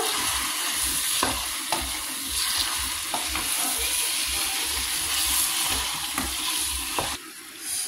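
Steady sizzling of masala being stirred and mixed in a hot pan, with occasional scrapes and clicks of the spoon over a continuous frying hiss, close and fairly loud, no talk.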